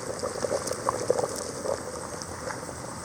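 Soft, steady bubbling of a thick mutton curry simmering in a pot, with small pops and gurgles scattered throughout and no voices.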